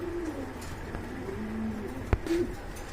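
Soft, low cooing from a pair of pigeons repeats a few times at close range, with a couple of brief sharp knocks and faint background hum.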